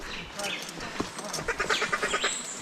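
A person imitates the call of the pájaro bobo bird near Charco Prieto waterfall, giving a series of short, rapid, high-pitched duck-like calls that repeat over a steady background rush, with some talk around them.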